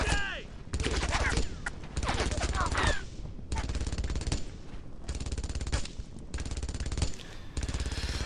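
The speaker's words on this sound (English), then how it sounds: "A lot of bullets are coming my way here." Sustained automatic gunfire from Brothers in Arms: Earned in Blood rattles loudly and close, with dense bursts broken by brief pauses and a few faint voices mixed in.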